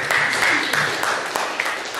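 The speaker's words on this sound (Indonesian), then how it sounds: "Tepuk tangan untuk Mona yang sudah memberikan" Students in a classroom clap for a classmate, a short burst of scattered hand claps with a voice and some chatter mixed in, close and fairly loud.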